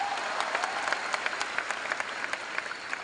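Loud, sustained applause from a large audience at a business success-day event, with crisp individual claps popping out of the dense clapping wash.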